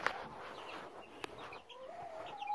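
Young laying hens give soft, quiet clucks and short calls, close but faint, with no talking.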